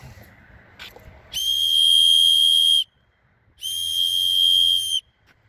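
A dog training whistle blown outdoors in two long, loud, steady shrill blasts, each lasting over a second with a short pause between them.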